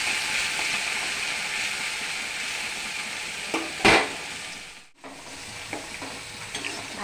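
A pot of taro (kochu) sour curry is stirred with water, a steady sizzling, bubbling wash broken by a sharp scrape midway and a brief dip before the stirring resumes.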